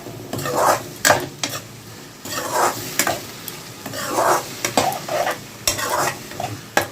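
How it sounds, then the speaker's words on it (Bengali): Barnyard millet rice being stirred in a pan with potato, pointed gourd and spices, giving repeated scraping strokes over a low sizzle, with occasional clinks of a utensil against the pot. "দেখতেই পাচ্ছ ভালো করে নাড়িয়ে নিয়েছি কিন্তু শ্যামা চালটাকে দিয়ে, এই আলু পটল সব মশলার সাথে"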